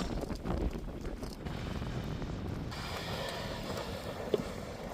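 Wind gusts over a snow-covered mountain, a steady rushing roar buffeting the microphone with low rumbling and a broad hiss throughout.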